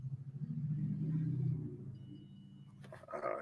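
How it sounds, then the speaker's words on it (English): A diesel Mack truck rumbles past at a moderate distance, its low engine drone swelling and then fading, with a faint clatter near the end and no talk over it. "I got the diesel Mack truck going by"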